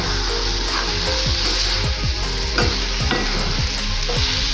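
Spoon stirring peanut powder into a drumstick curry in a pan, close rhythmic scraping strokes over a steady sizzle, loud and alone without speech.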